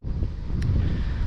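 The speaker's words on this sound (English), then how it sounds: "I'm trying to shield the camera from the wind right now" Strong wind buffets the camera microphone outdoors during a bicycle fishing outing, a continuous low roaring rumble that fills the short moment.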